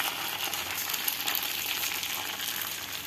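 Appam batter sizzling steadily on a hot tawa as it is swirled around the pan, a close, continuous bright frying hiss with no talking.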